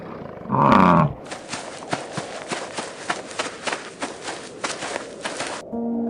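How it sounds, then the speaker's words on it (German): A deep, loud roar from North America's mightiest predator bursts out close for about half a second, then gives way to a cold, windy outdoor scene with rustling, step-like scuffs and no further roaring. "Das Brüllen des mächtigsten Raubtiers Nordamerikas verhallte im kalten Wind."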